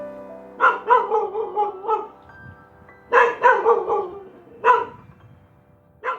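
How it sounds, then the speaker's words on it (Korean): A dog barks in short repeated bursts of several yips, then again after a pause, fairly close and alone without talk, on an ice plant farm in Yesan, South Chungcheong, announcing arriving visitors. "개 짖는 소리가 반가운 손님이 온 걸 알립니다"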